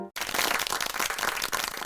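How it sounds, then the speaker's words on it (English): A large crowd breaks into loud, dense applause for a country's vice president, continuous clapping that starts abruptly after a brief silence and holds steady throughout. "Everyone please give him a round of applause."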